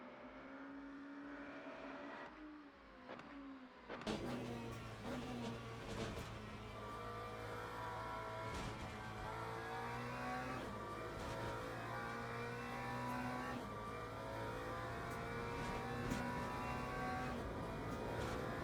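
A race car engine in Le Mans Ultimate revs up from the pits onto a qualifying lap, a steady, close drone rising through the gears with sharp shift pulses, no voices.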